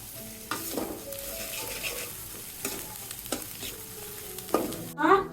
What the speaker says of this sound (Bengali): এখন মশলাগুলো কষিয়ে নেব।